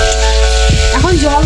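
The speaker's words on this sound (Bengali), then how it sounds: "আমি আরেকটু ভেজে নেবো 1 মিনিটের মতো।" Potatoes coated in spices sizzle and fry in a pan for a red silver carp fish curry, a steady close hiss with a brief voice-like tone over it partway through.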